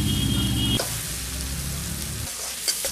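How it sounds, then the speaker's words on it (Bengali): Onions fry in a pan as a steady, close sizzle, opening under a brief tonal hum and punctuated by a few sharp stirring clicks, with no voices. "পেঁয়াজগুলোকে আমি কিছুক্ষণ ভেজে নেব"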